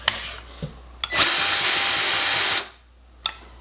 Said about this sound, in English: it's just gonna click out 5 units of grease